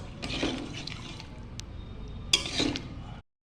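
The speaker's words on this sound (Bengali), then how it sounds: "এর মধ্যে এখন আমি দিয়ে দিচ্ছি পরিমাণ মতন জল" Water splashes steadily into a pan of potato posto, a close continuous pour with a brief clink near the end before it cuts off.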